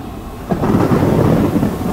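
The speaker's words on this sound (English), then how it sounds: "Fucking lightning." A loud, close thunder rumble from a lightning strike in the horror game Among the Sleep, a broad roaring crash that swells suddenly and holds steady, heard alone without talk.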